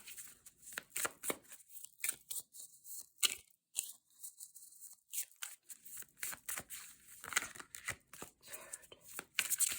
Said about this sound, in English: What is with the shuffling today?